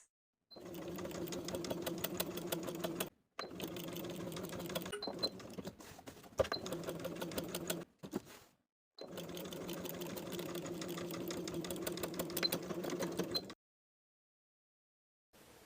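A sewing machine runs in long, steady rapid-stitching bursts with brief pauses, close and clear, while edge stitching a pocket onto a blouse's front bodice.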